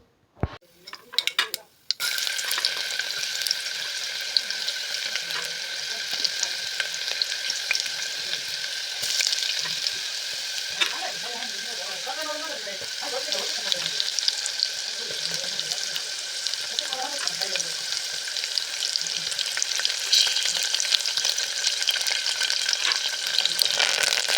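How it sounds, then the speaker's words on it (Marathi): Chopped onion frying in tempering oil in a home kitchen gives a loud, steady sizzle that runs almost the whole way, with faint clinks of stirring and a few knocks at the very start. "मी पटकन कांदा चिरून घेते आणि फोडणी देते"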